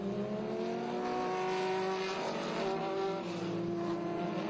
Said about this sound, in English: just look at the cars coming out right now